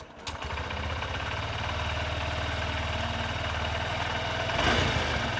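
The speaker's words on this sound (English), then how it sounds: "we can start the engine and just double check is it working okay" A Honda CB125F motorcycle's single-cylinder engine cranks, catches and settles into a steady close idle that holds evenly throughout, with a slight lift in revs near the end.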